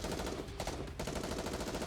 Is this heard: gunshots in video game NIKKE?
yes